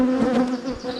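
Honeybees hum in a dense, steady buzz close by as a queen is set on top of the hive, the droning tone wavering slightly through the brief moment.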